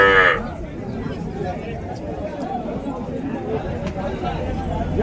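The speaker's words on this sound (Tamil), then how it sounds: "ஸோ வளர்ப்பு கண்ணுக்குட்டி." A calf at a cattle market in Uthangarai, Krishnagiri district, lets out a brief moo at the very start, followed by steady crowd chatter and voices of people talking around the livestock.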